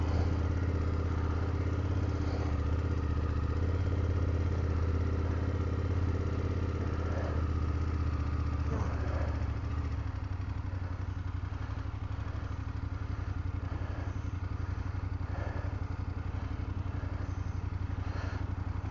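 A BMW F800GS motorcycle engine runs loudly and steadily for the whole stretch, a deep continuous idle with occasional clattering, no talking.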